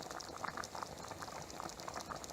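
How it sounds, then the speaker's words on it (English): Beef stew bubbles at a rolling boil in a pot, with continuous close, busy bubbling and popping and no voices. "we're back with the stew boiling"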